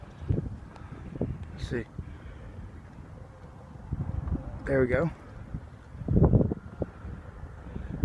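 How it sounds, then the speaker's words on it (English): Wind blowing outdoors at sunset, gusting and buffeting the microphone in low rumbling surges, strongest near the end, while a person talks briefly. "It's windy, y'all."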